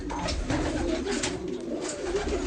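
Pigeons coo softly at close range in a low, murmuring chorus, repeated throaty calls blending over a steady background hum.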